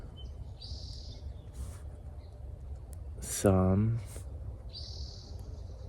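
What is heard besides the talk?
birds singing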